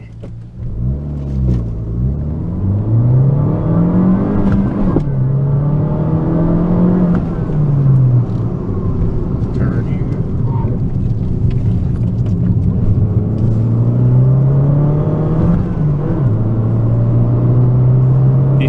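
A Fiat 500 Abarth engine roars continuously, its pitch rising and falling as it accelerates and eases through a bend, loud and close throughout.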